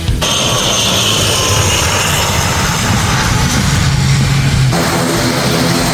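An airplane roars loudly and continuously on the runway at Shah Makhdum Airport in Rajshahi, a broad engine rush heard from beside the fields at the airfield's edge, easing slightly near the end.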